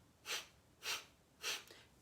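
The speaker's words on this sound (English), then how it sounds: "breathe out your nose. So it looks like this." Three short, forceful nasal exhales in pranayama breathwork, evenly spaced about half a second apart, airy and close with near silence between them.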